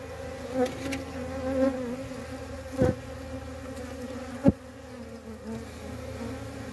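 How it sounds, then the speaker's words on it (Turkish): Honeybees buzzing close by, a steady droning hum with wavering pitch and a couple of sharp knocks, no voices. "Öncelik poşetteki arılar."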